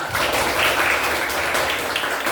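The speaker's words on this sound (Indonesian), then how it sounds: "tepuk tangan untuk kelas 5." Applause in a grade 5 classroom, a short burst of dense, lively clapping from a group of pupils that stays loud and close for a couple of seconds.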